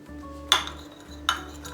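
A spoon clinks twice against a pan while mushrooms and tomato paste are stirred together, two sharp metallic scrapes spaced about a second apart over a quiet kitchen background.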